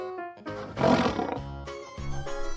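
A cartoon lion gives one loud, rough roar about a second in, set among brief tonal cartoon sounds, with no voices.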